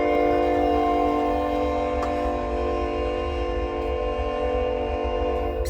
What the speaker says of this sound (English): Sounds like I live near a choo-choo train.